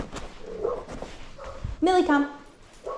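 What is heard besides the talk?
dog Millie barking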